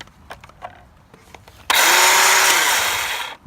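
Black and Decker 20V lithium battery chainsaw cutting small branches, its high whirring motor starting abruptly and running loud and close for nearly two seconds after a few soft handling clicks.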